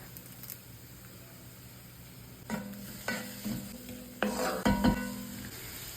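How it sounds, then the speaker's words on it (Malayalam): Garlic, onion, tomato and curry leaves sizzle softly in a pan while being sautéed, a quiet steady fry broken by a few spatula stirs and scrapes, with no voices. "പകുതി തക്കാളിയും 1 തണ്ട് കറിവേപ്പിലയും കൂട്ടി ഇട്ട് വഴറ്റി."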